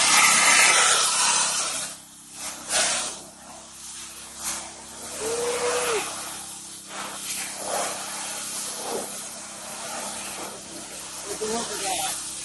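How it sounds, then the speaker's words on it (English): Pressure washer spraying asphalt solvent cleaner onto a LeeBoy 8608 asphalt paver, a steady loud hiss that runs throughout with brief dips and surges, mixed with people talking. "now we got the pressure washer fired up"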